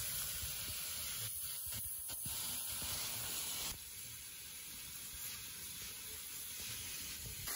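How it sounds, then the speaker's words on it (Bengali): Potatoes frying in hot oil in a pan for a Bengali potato dish, giving a steady, close sizzling hiss that stays loud throughout with no talking. "আলুগুলো লাল করে আমি ভেজে নিচ্ছি"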